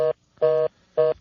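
Three loud, evenly spaced tones from an inter-office telephone being dialed, each a clean steady beep separated by brief silence.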